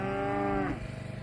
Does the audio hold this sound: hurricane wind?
no